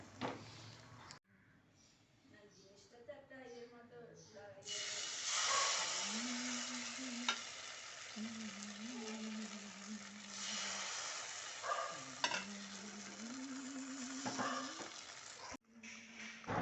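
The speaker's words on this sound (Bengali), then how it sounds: "যে বুড়ি বুড়ি উঠছে মানে তেলে ফুটছে জিনিসটা" Hot oil sizzles and hisses steadily for a long stretch as batter bubbles up while frying close by, with a few faint clinks and a hum underneath.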